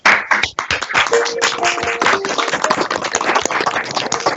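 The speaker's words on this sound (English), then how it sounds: "everyone perhaps just comes off mute for a moment and we have a bit of a clap" Participants in an online AGM meeting unmute and clap together, producing a dense, compressed patter of overlapping claps with faint voices and tones mixed in, steady throughout.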